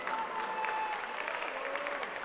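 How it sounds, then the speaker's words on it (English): A wrestling crowd at an event in Nottingham applauds, a sustained ripple of clapping heard from a distance under faint voices and arena murmur, steady throughout. "you can hear this ripple of applause"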